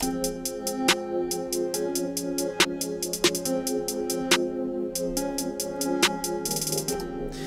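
Crisp closed hi-hats tick in a fast, steady trap-style pattern with occasional rolls, layered over a synth pad and arpeggio with periodic snare hits and a brief bright wash near the end, with no voices.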